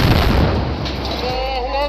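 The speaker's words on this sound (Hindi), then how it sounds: "सामने से आ रहे इजरायली सैनिकों और उसके टैंकों पर अल कासिम का रॉकेट फट पड़ता है, जिसमें जोरदार धमाका होता है" An Al-Qassam rocket explodes against advancing Israeli soldiers and tanks: a loud, close blast followed by rumbling, sustained low-end roar that stays heavy for about two seconds.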